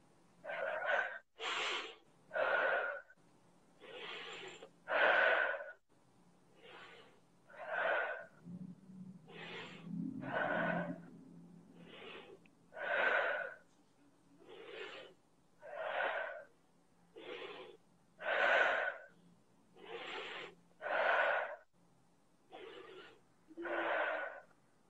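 Heavy, rhythmic breathing with sharp gasps and sniffing during an emotional release therapy session, about twenty repeated breath cycles, close and steady, with a low murmur of a voice briefly underneath.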